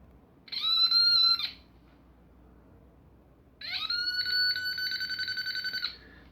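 A short-circuit component identifier used on an electronic circuit board emits two bursts of high-pitched tone, the second rapidly pulsing, close and loud against a quiet background.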